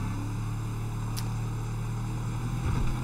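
Bus engine running in a train-and-bus driving video game, a steady low droning hum that holds evenly throughout with a brief higher hiss partway through and no talking.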